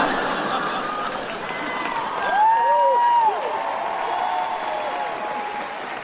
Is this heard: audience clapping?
yes